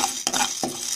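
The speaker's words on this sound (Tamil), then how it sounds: "இந்த கடலப்பருப்பு லைட்டா வறுத்துட்டு ஒரு மீடியம் ஃப்ளேம்ல வச்சுக்கோங்க" Split chickpeas dry-roast in a pan over a medium flame, with a close, brief scraping stir: two quick rattling sweeps of the lentils against the pan within a second.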